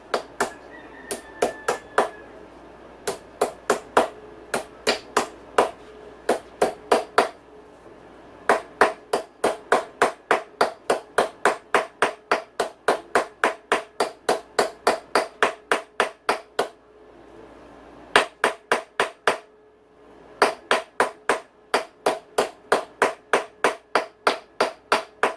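Steel hammer blows driving a steering stem bearing onto a motocross dirt bike, a long run of sharp, evenly spaced metallic strikes in quick bursts with brief pauses, loud and close, no talking.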